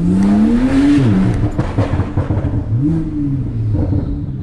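A Porsche 911 Turbo S on a London street roars loudly and close, its engine note climbing in two strong revving sweeps over a deep, steady rumble, with no voices.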